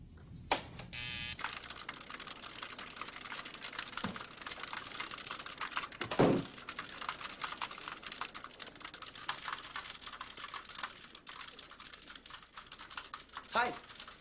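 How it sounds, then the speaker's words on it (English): Rapid computer keyboard typing runs steadily through an office scene, with brief voices and a couple of louder knocks along the way. "What are you typing?"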